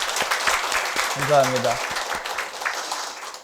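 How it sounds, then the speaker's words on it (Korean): A church congregation claps for the volunteers who decorated and set up the equipment, a diffuse round of applause beneath a voice as he says thanks. "우리 장식해 주시고 이렇게 설치하느라고 수고하신 분들에게 박수 한번 해주시기 바랍니다."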